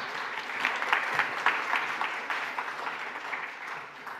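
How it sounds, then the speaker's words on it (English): Audience applause at a national Three Minute Thesis university competition, a steady wash of many hands clapping that stays dense and fairly loud throughout before easing slightly at the end. "Give them a round of applause."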